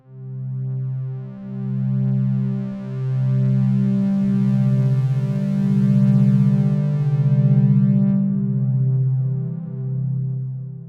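Smooth synth pad from Ableton Drift playing sustained chords, a filter envelope sweeping each note open and then letting it decay, steady and loud with soft swells between chord changes, no voices.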